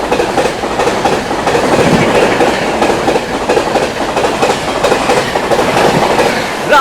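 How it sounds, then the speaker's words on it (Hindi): The Ranchi Rajdhani Express rushes past at full speed, about 130 km/h, with a loud, close, steady roar of rolling wheels and rhythmic clickety-clack over the rail joints for the whole stretch. "पूरी रफ्तार में फ्लैट 130 पे आती हुई रांची राजधानी।"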